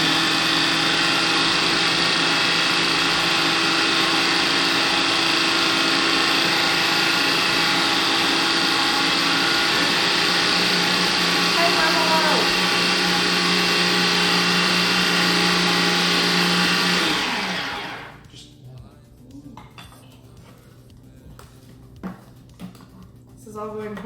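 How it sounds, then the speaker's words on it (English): A kitchen blender runs loudly and steadily while mixing ingredients for home cooking, a high whirring drone that holds for about eighteen seconds and then cuts off, leaving quiet room sounds with a few small knocks. "Only Aaron would dance to the rhythm of the blender"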